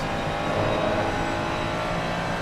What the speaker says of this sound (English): As we look from the rear of the Ferrari, you can see the Porsche giving chase